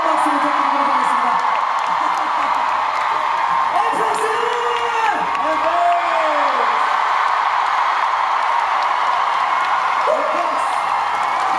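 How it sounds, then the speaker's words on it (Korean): A large concert crowd at a live show in Paris cheers and applauds loudly and continuously, with screams and whoops rising over the roar while a voice calls out a name. "여러분들 뜨거운 박수 부탁드리도록 하겠습니다."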